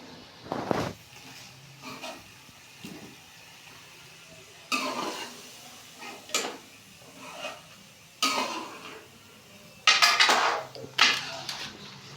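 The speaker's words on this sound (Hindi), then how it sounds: "अब इसमें हम आलू डाल देंगे।" Potatoes go into a pot of browned chicken with spices, heard as a handful of separate clattering thuds and scrapes against the metal, spaced out over several seconds in a quiet kitchen.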